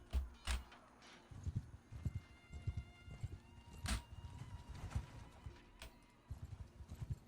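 Horse hooves clip-clopping in the Mount & Blade II: Bannerlord video game, several horses walking in a steady uneven patter, fairly quiet, with a few sharp clicks and a faint whinny-like tone mixed in.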